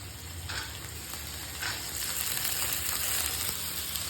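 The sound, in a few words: black chickpeas being roasted in a pan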